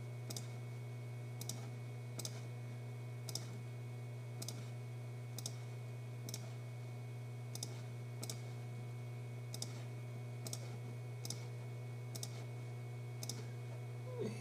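Computer mouse clicking during drawing in Inkscape, soft sharp clicks at a steady pace roughly one per second, over a low electrical hum, with no talking.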